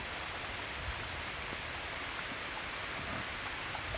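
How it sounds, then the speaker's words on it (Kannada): Heavy rain falling in Coorg, a steady dense hiss of drops spread evenly across the whole stretch, fairly close and unbroken, with no voices over it. "ಒಳ್ಳೆ ಮಳೆ ಹೊಡಿತೈತೆ, ಪರವಾಗಿಲ್ಲ."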